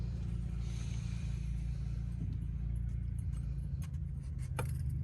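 An MCI bus engine with an Alaskan fan clutch revs steadily, the fan clutch locking up under throttle; a continuous loud low rumble holds throughout, with a few faint metallic clicks near the end.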